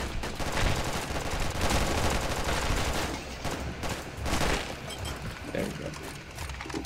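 Gunfire and an RPG explosion in Red Alliance, a Unity-built first-person shooter, with dense, sustained rattling bursts and booms filling the whole stretch at steady high volume, no quiet gaps.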